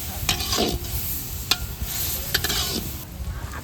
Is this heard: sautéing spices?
yes